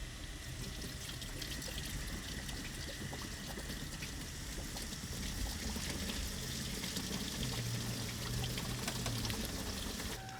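Water pours in a steady, even stream under a BMW 528i during a repair, a constant rushing flow that holds at the same level throughout, with no talk.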